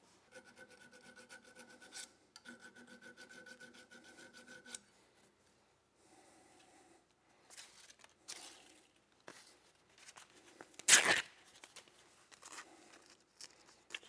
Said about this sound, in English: Sometimes it's better to use a 6-inch file here than one this small, but this works. You just have to go over it more.